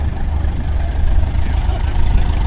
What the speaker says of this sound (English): Get a view of the tractor and a Triumph Stag going through.